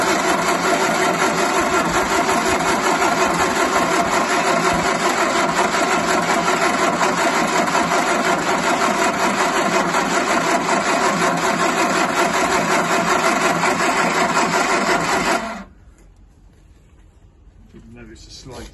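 A Singer Vogue car's engine runs steadily at idle, a loud, continuous mid-range drone with a dense rumble that holds for about fifteen seconds before cutting off abruptly into near silence.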